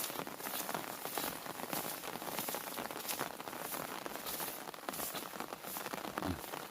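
Light rain drizzles steadily over ripening rice fields, a soft continuous patter and hiss of fine drops with no voices.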